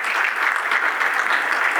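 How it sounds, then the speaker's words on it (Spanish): Audience applause for a general during a cybersecurity panel, a steady, dense wash of clapping hands sustained throughout at even loudness. "Un gran aplauso para el general."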